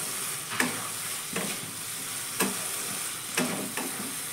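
Fried okra sizzles softly with mustard paste and spices in a pan, a low steady hiss broken by a spatula scraping and tossing it about once a second, close and quiet with no talking.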